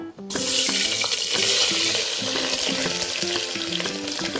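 Loud, steady sizzle of onion frying in hot oil in a pressure cooker, close up, with faint metallic clinks and stirring sounds underneath.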